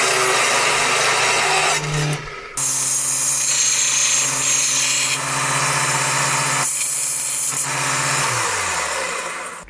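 A threaded all-thread rod is driven into a wooden part of a Tom Evans Mastergroove SR mkIII turntable, producing a loud, steady motorized whine. The whine briefly stops twice and sags in pitch near the end, with no talking.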